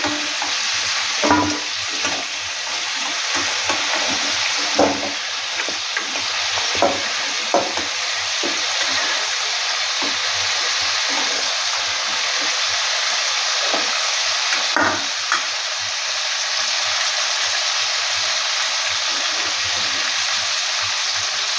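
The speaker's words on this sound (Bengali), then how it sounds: "এবার তেলের মধ্যে দালচিনি, এলাচ, তেজপাতা ফোড়ন দিয়ে দিচ্ছি।" Cinnamon, cardamom and bay leaf tempering in hot oil for chicken curry, with a continuous loud sizzle broken by frequent stirring clinks and scrapes.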